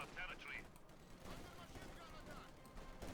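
Game battle noise from Company of Heroes 2, with MG42 machine gun fire rattling among explosions and dense combat clutter. A voice talks over it throughout, and the overall level stays quiet.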